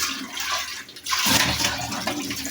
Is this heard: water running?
yes